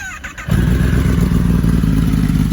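A Kawasaki motorcycle engine fires up after a brief clatter, then idles loudly and steadily, close by.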